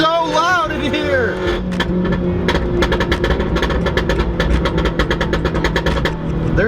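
A loud Mini engine with a Stage 2 tune and SuperSprint midpipe drones up close while the exhaust crackles and pops in rapid bursts.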